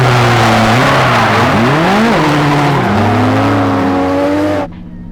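Cars drift on a mountain touge course at Ebisu Circuit in Japan during Drift Matsuri, engines screaming loud and close as they wind up and shift pitch, tires squealing underneath, until the roar cuts off abruptly near the end.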